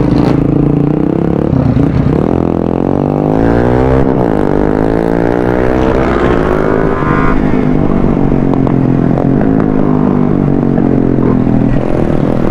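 A Raider FI 150 motorcycle with a faulty front brake rides along, its engine loud and close, revving up and down through gear changes with rattling and road noise throughout.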